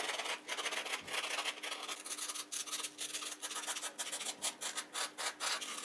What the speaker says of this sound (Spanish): Le voy a pasar una lija y un estropajo por aquí, por donde está este óxido de la cabeza